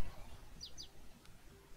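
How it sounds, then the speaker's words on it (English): Two quick high chirps from the bird axe in the Roblox game Lumber Tycoon 2, short and faint, close together over quiet background noise. "Little chirpy chirp"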